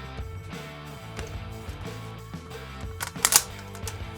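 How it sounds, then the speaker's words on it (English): Bolt being worked and pulled from a Swiss 1911 straight-pull infantry rifle, soft metallic clicks and slides in a quiet room, ending with a sharp brief metal clack near the end. "First, go ahead and take out your bolt."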